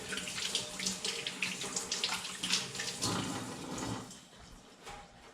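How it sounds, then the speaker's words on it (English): A household tap runs steadily as water splashes into a sink during handwashing, a close, continuous broadband rush with faint clatter, easing slightly toward the end. "when you wash your hands, to use warm water and soap and scrub for 30 seconds"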